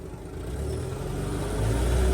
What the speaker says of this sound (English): You're forgetting that clutch. Oh. That's why you stalled.